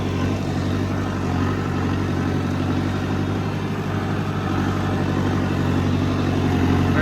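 A 265 tractor engine runs steadily in a riverside wheat field during sowing, a loud, close, continuous low rumble that holds an even throttle throughout with no voices.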